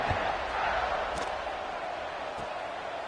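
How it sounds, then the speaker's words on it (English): An arena football crowd buzzes and cheers in a dense, continuous roar that fills the building, with a few faint thuds underneath. "this crowd is buzzing after that last score"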